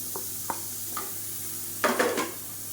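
A few light spoon taps against a pan, then a short burst of scraping and sizzling as masala with chopped tomato is sautéd for a fried egg curry, quiet otherwise and without voices.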